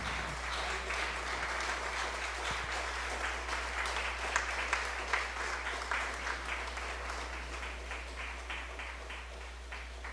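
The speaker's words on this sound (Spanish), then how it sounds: "Dale un aplauso a tu Señor." A church congregation claps along in worship, a steady rhythmic patter of many hands over a low constant hum, with faint voices mixed in.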